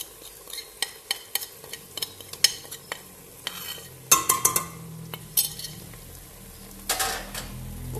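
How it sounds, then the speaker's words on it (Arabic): Meat fries with tomato paste, red pepper, harissa and onion, giving a crackling sizzle broken by repeated clinks and scrapes of a utensil against the pan, with two louder bursts of frying partway through. "وباش نقليهم زاده مع بعضهم كله"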